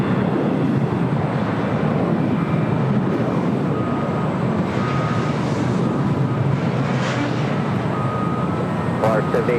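A Delta Airbus A330neo bound for Tokyo Haneda takes off at LAX, its engines making a broad, steady roar throughout, with a voice talking faintly over the noise.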